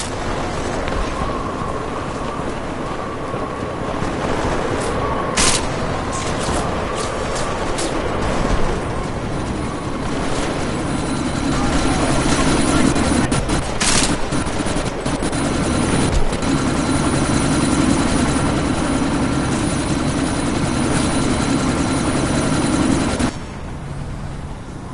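Helicopter in the video game Deus Ex Mankind Divided, set in a sandstorm: a loud, steady rotor drone throughout, broken by sharp bursts of gunfire.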